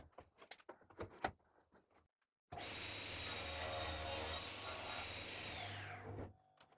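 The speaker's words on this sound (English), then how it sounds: "I will clamp my wood down to the jig" Wood clamped onto a strip cutting jig, a few close clicks and knocks of clamp hardware followed by a sudden, sustained grinding rub that lasts about four seconds before stopping.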